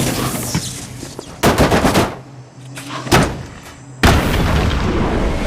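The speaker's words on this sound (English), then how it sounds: "Fire the rec gun at the electromagnet on the wall." Rapid bursts of REC gun fire aimed at an electromagnet in Batman: Arkham City, three loud, dense volleys separated by short pauses, heard alone with no talk.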